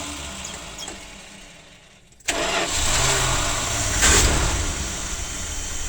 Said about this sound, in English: I can hear some exhaust noise.